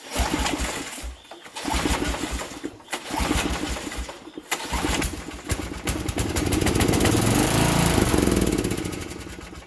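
Engine of a Snapper rear-engine riding mower with an 8 hp Briggs and Stratton motor, running with a foam air filter; it sputters unevenly at first, then revs up to a loud, steady near roar.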